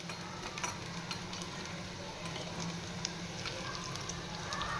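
Onion and potato bhaji frying in hot oil, a soft, steady sizzle with faint crackles and small ticks running throughout at low level, no voices.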